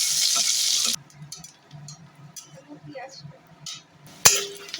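Chopped onion and three pieces of garlic dropped into a hot spice tempering: a loud hiss for about a second, then quieter crackling with light clinks and stirring, and a sharp metallic knock near the end.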